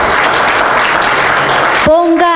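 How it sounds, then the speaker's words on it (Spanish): A church congregation claps during a Spanish-language sermon, a loud, dense, steady wash of applause that ends abruptly as a voice comes in. "¿Cuántos pueden darle un aplauso al Señor?"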